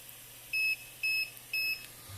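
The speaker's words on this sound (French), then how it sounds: "on entend le petit bip" Three short high-pitched electronic beeps from a 3D printer as its nozzle reaches 260 degrees, evenly spaced about half a second apart, clear over a faint low hum.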